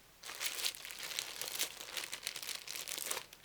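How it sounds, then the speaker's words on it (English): A Harry Potter paper bag crinkles and crackles steadily for about three seconds, close and moderately loud, with dense rustling bursts and no talking. "still in this Harry Potter bag, because it's nice and crinkly"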